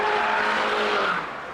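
A Mini's turbocharged engine revs hard under full throttle with overboost, a loud, strained, high-pitched drone that holds steady and then eases slightly toward the end.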